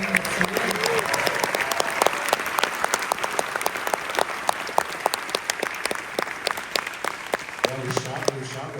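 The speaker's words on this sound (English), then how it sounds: "Now that we've seen the film, can we have a round of applause for" An audience at a film premiere Q&A applauds steadily and warmly, a dense wash of many hands clapping close by, with a voice starting to speak near the end.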